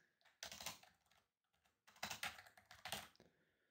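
Quick bursts of close keystrokes on a computer keyboard, two runs of clattering taps split by a short pause, quiet and alone.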